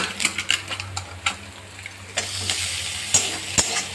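Ginger frying in a pan for egg ghugni gives a soft sizzle broken by light scraping and clinking strokes of a spoon, close up and quiet, with no voices.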